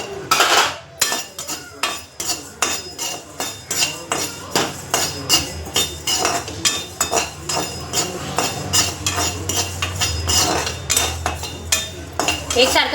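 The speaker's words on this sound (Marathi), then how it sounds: "आता धने भाजून घेते मस्त" Coriander seeds being dry roasted and stirred in a pan, with a spoon scraping and clinking against the metal in a steady repeated rhythm, close and fairly loud.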